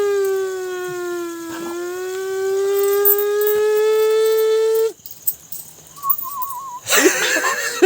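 A fire truck siren wails loudly and steadily with a rising and falling pitch for several seconds, then cuts off, followed by a brief warbling tone and street noise.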